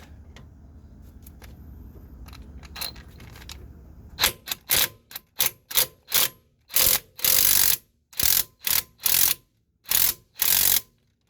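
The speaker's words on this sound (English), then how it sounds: "I got my impact on there, but whatever you want will work." An impact wrench spins 12mm bolts on the rack and pinion of a 2003-2009 Toyota 4Runner. About a dozen sharp, loud rattling bursts come close up, some short and some longer, after a quieter stretch of light mechanical clicks.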